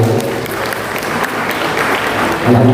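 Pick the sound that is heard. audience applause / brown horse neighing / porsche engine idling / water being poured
audience applause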